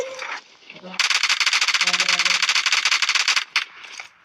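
Rapid automatic gunfire in a video game bursts out close and loud for a few seconds as a steady rattling stream, with a voice talking over it.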